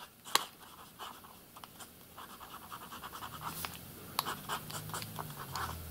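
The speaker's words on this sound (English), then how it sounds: "let me write the same with the same two pens" A Platinum fountain pen with a medium nib writes on planner paper, making faint, close scratchy strokes in an irregular rhythm with small taps and pauses.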